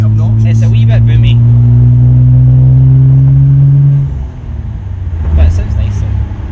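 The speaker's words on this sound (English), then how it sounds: "You're probably hearing none of this because the exhaust is quite obnoxious. It's a wee bit boomy." A Toyota Supra JZA70 under restoration drives down the road with a loud, boomy aftermarket exhaust, droning steadily while cruising, then dropping off as the throttle eases, with people talking inside the car.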